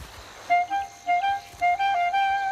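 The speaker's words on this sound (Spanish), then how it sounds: "La mayoría de los gansos grises que habitan en los países nórdicos pasan el invierno en Inglaterra." Greylag geese honk in a string of nasal calls, several in quick succession and fairly close, over a quiet outdoor background.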